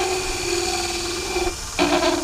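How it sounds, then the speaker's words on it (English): A wood lathe turns a bowling ball while a tool cuts insets into it, giving a steady whining machine drone with a tonal hum that shifts pitch near the end, close and fairly loud, with no talk. "And just cutting some insets here"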